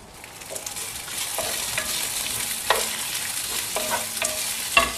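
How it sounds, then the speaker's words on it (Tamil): Mint leaves sauté in a pan for a kovakkai gravy, with a steady sizzle broken by intermittent scraping stirs of a spoon against the pan. "தீயாம ஒரு மாதிரி கலர் மாறுற வரைக்கும், அந்த பச்சை வாசனை போற வரைக்கும் வதக்கிக்கணும்."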